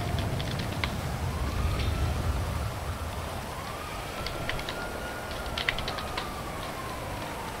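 A police siren in the FiveM game wails in slow rising and falling sweeps from some distance, faint under steady rain-like hiss and scattered keyboard clicks.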